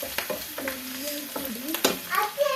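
Turmeric powder roasts in a pan with a soft sizzle, punctuated by several scraping stirs of a utensil, close and fairly quiet, with a voice speaking briefly.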